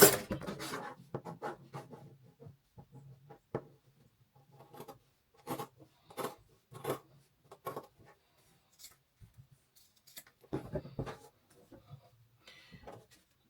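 Scissors trim dress fabric at a sewing table, giving a series of short crisp snips and rustles with gaps between bursts, close and fairly quiet.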